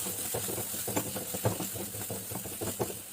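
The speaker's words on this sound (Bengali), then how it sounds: "আবার একটু নাড়িয়ে দেব।" A spoon scrapes and stirs a bitter gourd filling spiced with garam masala in a pan, a soft steady rhythm of light scrapes over a faint background hiss.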